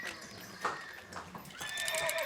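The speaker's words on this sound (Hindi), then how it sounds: "यहाँ से घोड़े भाग के आएंगे सर।" Horses run past with quick hoofbeats and give several shrill whinnies in a short burst, the neighs rising toward the end, moderately close.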